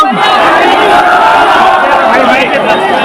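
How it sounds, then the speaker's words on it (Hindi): A large crowd at a political rally in Mumbai roars and cheers to welcome a speaker, a loud continuous wall of shouting and clapping with no pause. "जोरदार तालियों से उनका इस्तकबाल करिए।"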